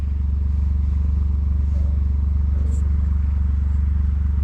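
A John Deere 835R machine's engine idles steadily up close, a low continuous rumble with a faint rhythmic throb and no audible talk.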